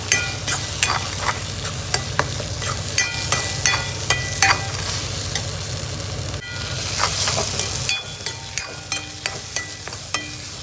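Egg being stirred in a frying pan over medium heat for a leftover idiyappam lunchbox dish, with steady close scraping and repeated clicks of the spatula over a continuous sizzle.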